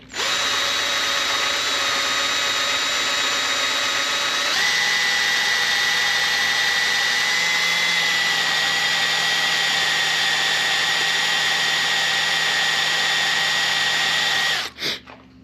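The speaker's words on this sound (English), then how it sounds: "we're going to proceed to try to drill this thing out" A power drill drilling through metal whines steadily for a long stretch, loud and close, its pitch stepping up partway through, then cutting off abruptly at the end.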